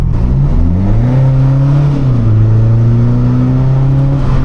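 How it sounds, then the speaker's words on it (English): A BMW 535d with its 3-litre diesel engine revs steadily and loudly, the pitch climbing, dipping around midway, then holding high and close with no talking. "I love the way these diesels sound"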